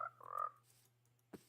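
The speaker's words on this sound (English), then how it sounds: "Oh, frog." A frog in the Minecraft video game gives a short croak near the start, followed by quiet game ambience and a faint later click, with no talking.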